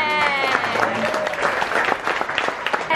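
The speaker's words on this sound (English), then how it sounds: "A big round of applause for Clyde." Wedding guests applauding after a toast, a short, loud burst of many clapping hands with cheering voices and tonal whoops layered over it, sustained across the whole moment.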